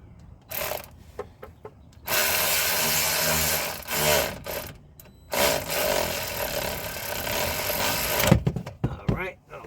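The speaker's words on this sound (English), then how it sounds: "while I'm screwing the caliper pins in, just to make sure it's gonna line up properly" Caliper pins are run into the front brakes of a 2007 BMW X3 with a power driver, giving two long whirring bursts with shorter buzzes and clanks between them, close up.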